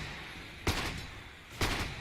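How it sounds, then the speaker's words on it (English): Gyrocopter's flak cannon fires during a Dota 2 match, two short sharp bursts about a second apart over a low game background hum. "Using his flat cannon to clear the creep wave real fast."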